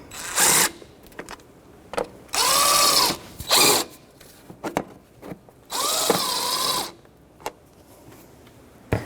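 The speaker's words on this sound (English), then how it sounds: "put the nut on this side, 10mm socket, and just snug them up." A 10mm socket ratchet snugs nuts down during spark plug work on a 2006-2012 Toyota RAV4, heard as several loud, close mechanical bursts separated by short pauses, with lighter clicks and knocks in between.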